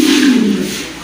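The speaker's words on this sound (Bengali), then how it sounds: "এখানে 3 পিস কবুতর রয়েছে, বাগদাদি হুমা কবুতর" Baghdadi Huma pigeons, two red and one yellow, give a close, loud, low coo that swells and then fades in a quiet setting.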